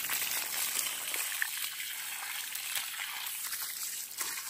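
A tap runs steadily while a dog is being bathed, a continuous close splashing flow of water with brief sharper splashes, no one talking.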